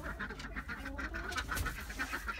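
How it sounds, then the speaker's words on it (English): Ducks quacking in a backyard where chickens are also kept, a steady stream of overlapping calls that carries on throughout at moderate loudness, with no voices. "Hi ducks. Ducks are all out."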